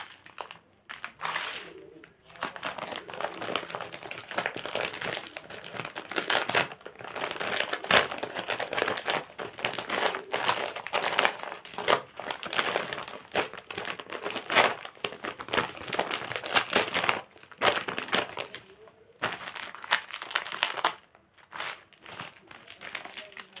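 Dried raw mango slices are pulled off a drying sheet with continuous close crinkling and papery crackling that rises and falls over about twenty seconds, pausing briefly near the end.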